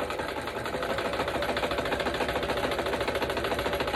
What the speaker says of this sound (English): And push my luck with the sewing machine.